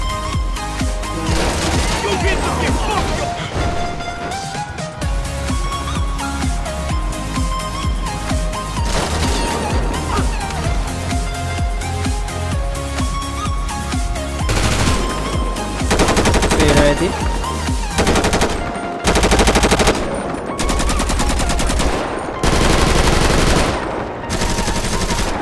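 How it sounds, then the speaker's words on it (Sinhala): Machine gun fire in GTA 5 running the Redux mod with realistic weapon audio: sustained loud automatic bursts, broken by brief gaps and heavier volleys toward the end. "රියල් ගන් සවුන්ඩ් එක දාලා තියෙනවා ගේම් එකට."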